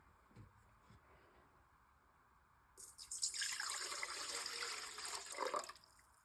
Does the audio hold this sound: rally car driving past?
no